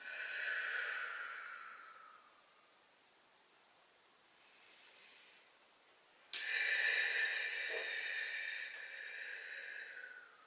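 Slow, deep breaths during a squat mobility exercise, a long airy inhale and exhale, then a sharp catch and another long, hissy breath, heard close and quiet without speech.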